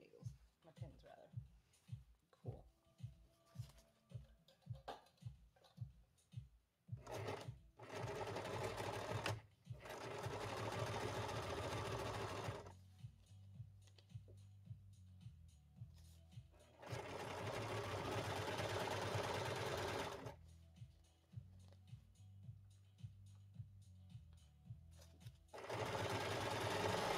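A sewing machine stitches fabric in bursts, first a run of rapid separate clicks, then long steady whirring runs broken by short pauses, close and clear, with occasional talking between runs.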